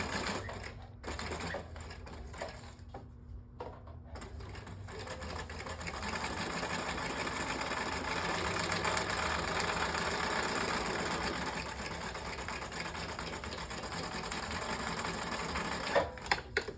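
Sewing machine stitching around the edge of a fabric envelope, a steady close rattling whir that runs almost unbroken after a few short starts and stops.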